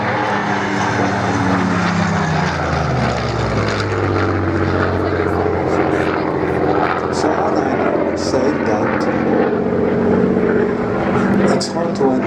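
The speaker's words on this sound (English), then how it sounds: "with such a noise, the engine doesn't blow itself apart on its own." A vintage warplane's piston engine roars at an airshow, a loud continuous drone that shifts in pitch as the aircraft passes, with a voice talking over it.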